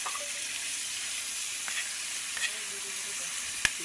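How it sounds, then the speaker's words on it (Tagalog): Broccoli sautéing in a pan for a broccoli-and-ham stir-fry, a steady soft frying hiss throughout with a few faint clicks and one sharp tap near the end, no talking. "At yan, lalagay natin si broccoli."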